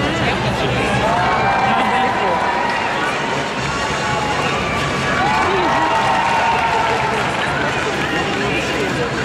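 Steady applause from a crowd in the stands at the 2011 figure skating World Championships, continuous and fairly loud, with murmuring and a voice talking nearby.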